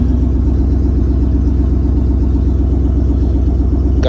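Either a 1999 Chevy Suburban or a 2007 Chrysler 300C runs loudly at idle, its deep, even engine rumble continuous and close, ending with a short mechanical chirp.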